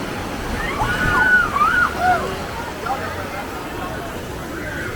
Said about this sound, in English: Show you one of the big splashes.